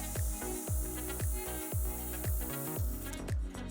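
An airbrush gel system sprays out deep cleanser in repeated short hissing bursts, roughly every half second, close and moderately quiet against a faint steady background hiss.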